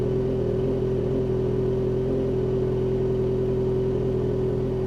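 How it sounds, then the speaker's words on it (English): Motorcycle engine idles steadily and close by, a constant low throbbing drone with a mid-pitched hum that holds evenly throughout before cutting off abruptly at the very end. "I'm going to start the bike"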